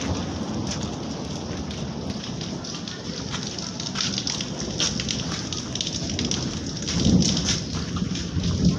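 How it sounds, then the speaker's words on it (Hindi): Steady rain pours down on a city street in a continuous hiss of drops hitting surfaces, with a low rumble swelling near the end. "तो बारिश अभी हो रही है"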